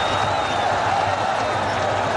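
A large crowd at a Bangladesh versus Pakistan cricket match in Dhaka roars in a steady, dense wall of cheering after a boundary, loud and unbroken throughout.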